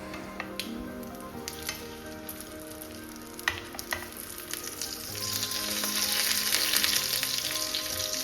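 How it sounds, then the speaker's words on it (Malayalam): Meat-filled pathiri, dipped in egg, toasting and being flipped in hot oil in a pan, giving a steady close sizzle with a few light scraping clicks that swells louder toward the end, with no talking. "ഓയിൽ വെച്ചിട്ടൊന്ന് തിരിച്ചും മറിച്ചും ടോസ്റ്റ് ചെയ്തെടുക്കുക"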